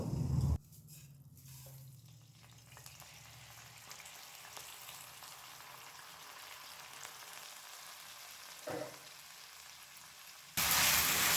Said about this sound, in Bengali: এবার গ্যাসটাকে হাই ফ্লেমে রেখে 5 থেকে 6 মিনিট চালটা ভেজে নেব।